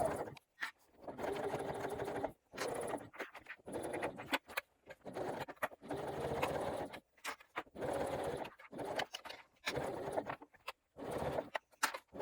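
A sewing machine bastes a bag lining to its exterior panel at a 1/8-inch seam, running in repeated bursts of steady mechanical whirring broken by short pauses, close and alone.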